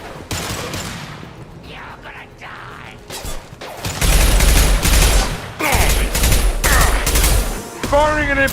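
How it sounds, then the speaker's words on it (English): An impact shot fires in the video game Mass Effect: loud, heavy gunfire bursts with mechanical clatter, repeating in strong volleys after a quieter start and ending in a bright, ringing whine. "Firing an impact shot!"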